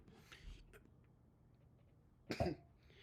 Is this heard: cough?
yes